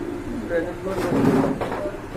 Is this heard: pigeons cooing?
yes